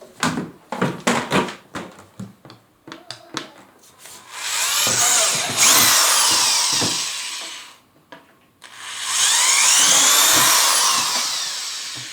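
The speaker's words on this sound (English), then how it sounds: "And then I'm going to drill a pilot hole." A few knocks and clatters, then a power drill whirs loudly for several seconds drilling a pilot hole for a DIY canister filter, stops briefly, and bores again at a steady high whine.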